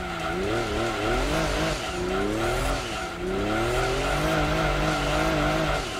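A Lexus SC 300 drift build in Gran Turismo 2 slides with a loud, continuous tire squeal over a revving engine whose pitch sweeps up and down through the corners.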